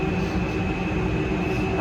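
Steady rumble and rolling drone inside a moving metro carriage in Lausanne, Switzerland, with a continuous high whine above the low rail noise, close and even throughout with no talking.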